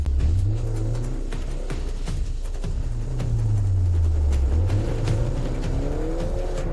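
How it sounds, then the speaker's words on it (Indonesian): A sports car roars up close with loud, sweeping engine revs rising and falling, tires squealing, and the motor accelerating continuously as it approaches. "Lihat, mobil sport tuh mengejar ke sini."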